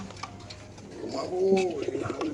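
A racer pigeon coos close by in a short rising burst, with a person talking around it amid shuffling handling noise.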